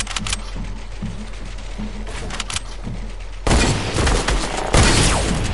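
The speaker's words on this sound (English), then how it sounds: "You scared the life out of me, so I had to shoot you." Gunfire in the first-person shooter game Rage: a fairly quiet stretch of scattered shots and low thumps, then a louder, denser volley breaking out partway through and growing stronger toward the end.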